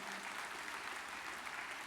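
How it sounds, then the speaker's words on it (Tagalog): Church congregation applauding for the Lord during a sermon, a steady, even wash of clapping that fills the room at moderate level, with no break and no voices standing out. "Atong tagagkusog nga palakpak si Lord ana"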